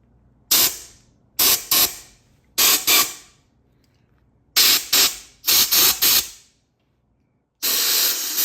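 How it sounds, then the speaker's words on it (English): Compressed air blasts into the threaded bolt holes of a 948cc engine block during a rebuild, coming as six loud, close hissing bursts in quick succession and then one longer sustained spray. "I'm just going to shoot it with a little compressed air"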